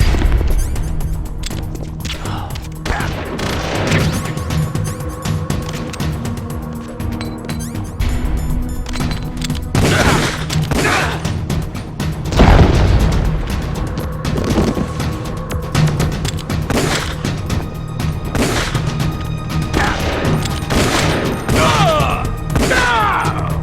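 Gunfire and metallic clinks echo through a Metal Gear Solid: The Twin Snakes battle, with sharp bursts scattered over a dense, rumbling game soundscape and a loud impact near the middle.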